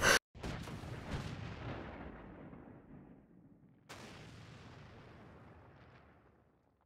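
Tank cannon fire in an online tank battle game: a sharp close blast followed by a long rumbling decay, then a second heavy boom a few seconds later fading out slowly.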